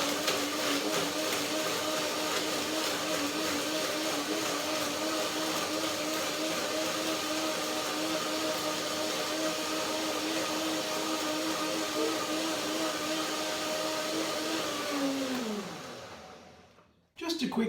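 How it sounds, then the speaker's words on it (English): A blender whirs loudly and steadily for a long stretch, blending fruit with water, its motor pitch holding, then winding down sharply as it switches off. "Just a quick blend to see if I need something more"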